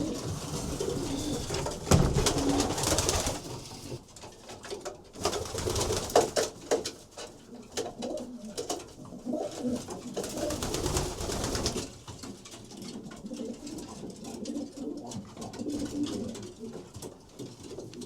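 Racing pigeons coo in a loft, soft throaty calls repeating and overlapping close by, mixed with wing flutters and scuffling, with no voices.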